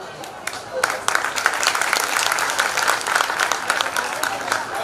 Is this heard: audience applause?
yes